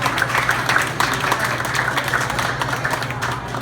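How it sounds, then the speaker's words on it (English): Sustained applause from an audience honoring event sponsors at a Houston gathering, a dense steady wash of many hands clapping at moderate loudness throughout, with no talk over it. "Let's give them another round of applause."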